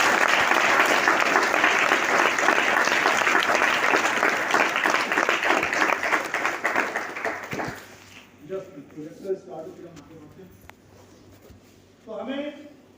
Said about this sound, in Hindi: आप सभी अपने लिए जोरदार ताली बजाएं